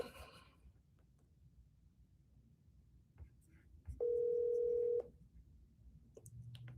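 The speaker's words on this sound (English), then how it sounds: "I'm gonna call him real quick on my phone" A phone call rings out as a single steady electronic tone lasting about a second, set against a faint, quiet room.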